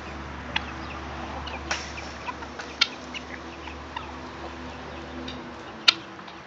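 Quail cluck and peep in a pen, giving scattered short calls over a low steady hum, with one sharper call near the end.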